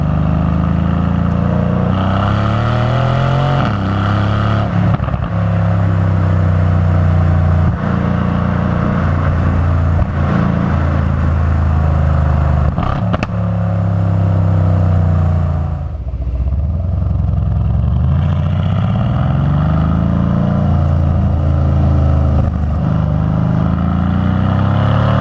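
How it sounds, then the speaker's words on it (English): A loud Mercedes-Benz C63 engine in Sport Plus mode drones and revs steadily at close range, with rapid crackling and popping from the exhaust throughout. "It's just constantly crackling and popping when you're in Sport Plus."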